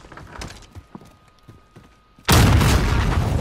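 A grenade explodes in the shooter game Warzone: faint thumps and clatter, then a sudden loud, broad blast that rumbles on to the end.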